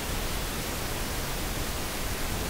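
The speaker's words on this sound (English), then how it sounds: "this is now showing me the pink noise line" A pink noise test signal plays in a Studio One mixing session, a steady, even hiss of constant loudness with no other sounds.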